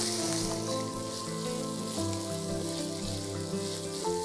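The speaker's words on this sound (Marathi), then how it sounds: "तेल तापलं की त्यात मी घालणार आहे 2 बारीक चिरलेले कांदे. सौते करूया." Finely chopped onions sautéing in hot oil in a kadhai, a steady close sizzle and crackle running throughout over a humming, tonal background with no voices.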